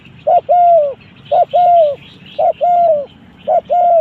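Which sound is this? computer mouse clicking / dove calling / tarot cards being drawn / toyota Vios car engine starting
dove calling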